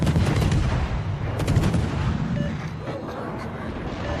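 Heavy naval gunfire from a battleship in a naval combat video game, booming blasts and rumbling reports continuing loudly throughout over a dense low roar, with no clear pauses.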